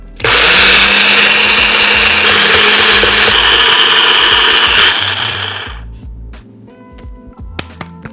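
A blender whirs loudly as it mixes cottage cheese for about five seconds, then spins down, followed by a few light clinks and taps.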